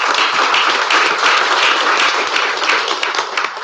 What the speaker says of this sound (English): So another round of applause on the first round bye